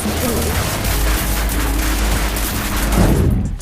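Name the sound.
gunfire from shooting a demon in a video game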